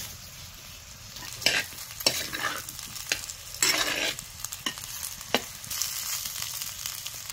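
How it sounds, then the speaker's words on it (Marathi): Chopped potatoes and dal stirred in a pan for potato curry, close scraping strokes of a spoon at an irregular rhythm over a steady sizzle, with no voices. "आता ते बटाटे बारीक चिरलेले ह्यात घालायचे."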